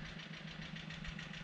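A small 12 hp tractor engine runs at a steady, throbbing mid-pitched drone with a regular pulsing beat during hay harvest work, fairly faint but continuous and heard alone.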